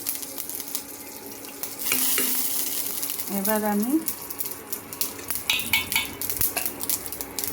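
Dried red chillies and mustard seeds tempering in a spoonful of oil, a close sizzle with scraping stirs and utensil clinks against the pan, while someone briefly speaks.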